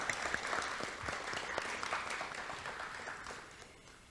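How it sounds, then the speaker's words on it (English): An audience at a student wellbeing event claps steadily, a dense patter of many hands heard from a distance, fairly quiet and fading slightly toward the end. "I also want to give a round of applause to the audience"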